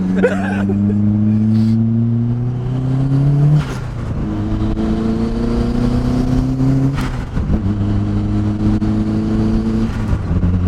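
A loud turbocharged Mazda Miata engine revs up in rising pitch sweeps, dropping and climbing again twice, a steady powerful roar close by.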